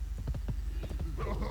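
Quick hoofbeats from a horse in the World of Warcraft video game, a brief rapid clatter of several steps with a voice talking over them.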